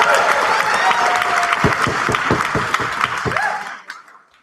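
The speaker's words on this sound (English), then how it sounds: "Guys, give me a round of applause." An audience at a house debate claps loudly and steadily, with sharp individual claps standing out. The applause thins and fades to silence over about four seconds, with a voice briefly heard beneath it.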